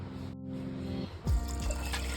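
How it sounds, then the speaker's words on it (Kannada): A cup of water poured into lentils set to cook in a pressure cooker for sambar, a short splash and trickle after a second of quiet kitchen hum. "ಒಂದು ಕಪ್ಪು ನೀರನ್ನ ಹಾಕ್ತಾ ಇದ್ದೀನಿ ಬೇಯಿಸ್ಲಿಕ್ಕೆ"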